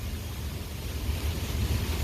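Strong wind gusts in a severe storm roar in a dense, steady rush with heavy low rumble buffeting the microphone throughout, with no talking.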